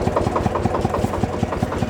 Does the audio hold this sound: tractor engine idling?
yes